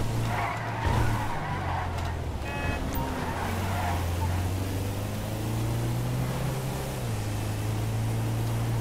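A car driven hard in GTA 5 Online, a sustained engine drone with long tire skids and squeals as it slides through turns, loud and continuous, with brief talk.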